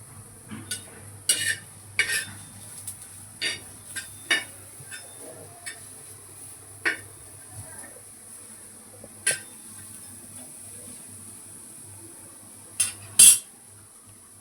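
Coconut and onion roasting in a pan, with intermittent clinks and scrapes of a utensil stirring against the metal over a faint steady background hum, no voices.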